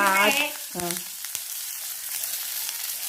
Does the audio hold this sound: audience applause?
no